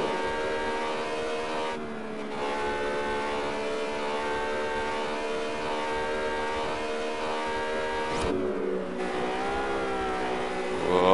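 A car in Test Drive Unlimited accelerates hard down a straight road, its engine note climbing steadily in pitch with a brief gear shift near two seconds and another near eight, loud and alone.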